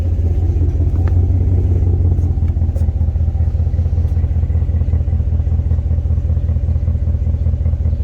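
Chevy Silverado Trail Boss engine through a Flowmaster 40 series muffler idling steadily, a continuous deep, pulsing low exhaust rumble heard up close with faint mechanical clatter on top.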